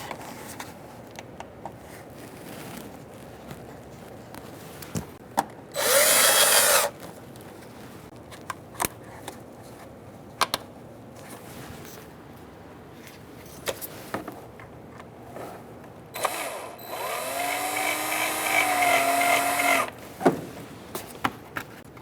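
Power drill driving screws into the front inner fender liner of a 2010-2013 Kia Soul, two separate whirring bursts, the second longer with a rising pitch, between quiet handling clicks and rustles.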